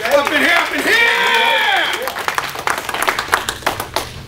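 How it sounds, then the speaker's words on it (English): A church congregation claps in praise. First a voice holds a sung or shouted line, then scattered hand claps build into uneven, fairly close applause. "Give God a hand clap of praise up in here."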